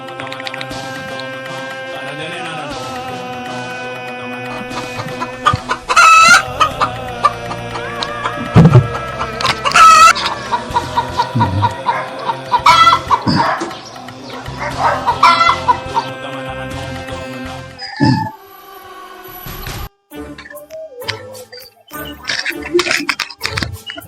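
Chickens and a rooster clucking and squawking close by, with busy, irregular bursts of cackling and brief crowing, and occasional human voices mixed in.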